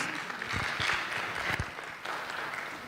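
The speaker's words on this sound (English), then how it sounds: "Makerere University, give them a hand clap" An indoor audience at a literacy conference claps together, producing a steady wash of dense applause that holds at moderate loudness for the whole stretch, with scattered sharper claps standing out.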